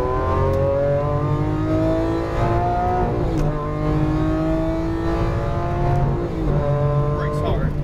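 Lamborghini Aventador accelerating hard around a race track, its engine climbing through repeated rising revs with gear changes and a brief tire squeal, close and loud with an instructor talking over it.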